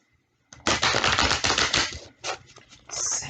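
A close, continuous papery shuffling and riffling, like cards being shuffled, with a brief pause and a second burst.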